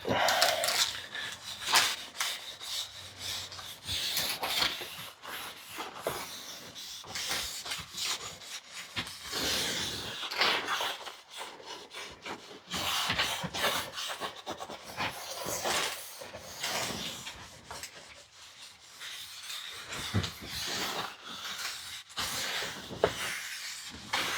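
A wooden bead loom is buffed by hand, giving continuous rubbing and swishing strokes in an uneven rhythm, close and moderately loud, running on without pause.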